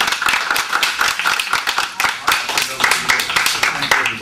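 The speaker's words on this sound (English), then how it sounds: "How about a round of applause?" A small group claps for a WWII veteran receiving a flag at an honor ceremony; close, uneven hand claps with distinct individual strikes, lively and fairly loud throughout.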